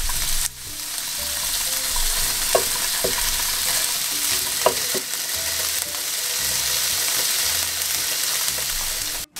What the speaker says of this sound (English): meanwhile that's frying off